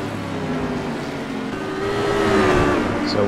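GT3 race cars at Road America sweep past on track, a steady engine roar that builds louder toward the end of the short pass.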